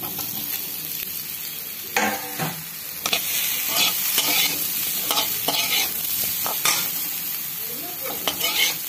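Boiled, peeled sweet potato chunks sizzle loudly in a pan, broken by repeated scraping stirs of a spatula against the metal, close and clear.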